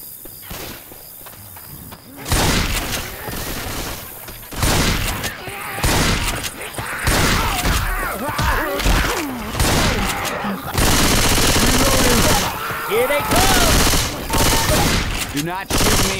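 Gunfire in the video game Left 4 Dead 2, nearly continuous bursts of automatic and shotgun fire with zombie noises and shouting characters, loud and dense throughout, rising in intensity toward the end.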